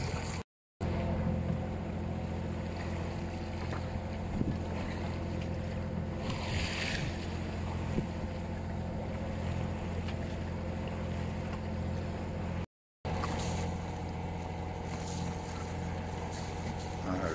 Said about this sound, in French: toujours aidé du moteur parce que sinon ça pousse pas assez